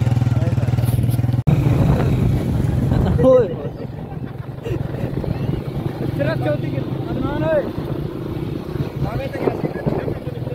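A motorcycle engine rumbles steadily across river sand, running close and loud throughout while several people talk over it.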